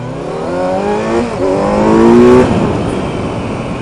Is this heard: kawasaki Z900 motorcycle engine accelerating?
yes